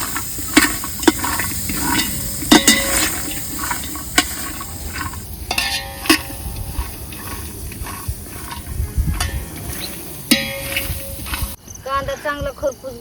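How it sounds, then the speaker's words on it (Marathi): Onions for biryani dry-roast in a pan with a low sizzle and frequent sharp scraping and clinking from stirring, close by, as a person talks over the cooking. "कांदा चांगला खरपूस भाजून झालाय."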